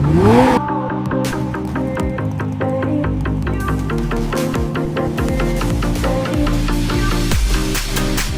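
A car drifting through turns with loud, continuous engine revving and repeated tire squeals, steady and close with no pauses.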